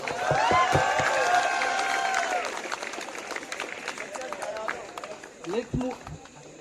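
An audience at a stage dance-performance evening bursts into loud, dense clapping with cheers and whistles, then thins into scattered claps and a few shouts over the last seconds.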